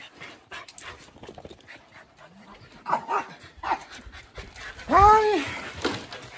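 A rescued senior dog pants and lets out a rising, drawn-out whimper close by, with people talking around it.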